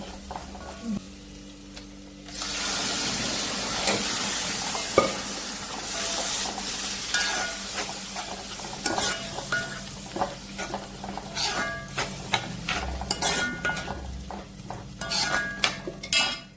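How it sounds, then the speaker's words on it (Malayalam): Boiled tomatoes go into a hot pan and fry, giving a steady sizzle broken by repeated scraping stirs and sharp metallic clinks of a spoon against the pan, close and fairly loud. "വേവിച്ച് വെച്ച് തക്കാളി ഇടാൻ പോണേ."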